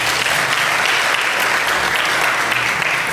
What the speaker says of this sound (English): just another round of applause for Queen